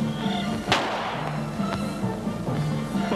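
A gun fires once in a Turkish TV drama about the War of Independence, a sharp, loud crack with a decaying tail, followed by fainter thumps over a low sustained musical drone.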